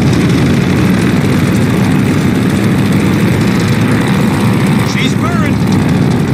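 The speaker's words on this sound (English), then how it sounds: "do an engine run-up. Make sure she doesn't blow out." A steady, loud propeller aircraft engine drones continuously at high power during an engine run-up in the video game Call of Duty: Vanguard, at the Battle of Midway, with a voice speaking over the roar and a brief electronic chirp near the end.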